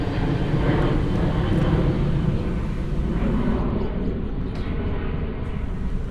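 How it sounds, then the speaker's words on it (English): Airplanes pass low overhead near Burbank airport, giving a continuous loud broadband roar that fills the whole stretch with no break, heard outdoors with no clear talk. "oh, these planes, man, I did not expect this"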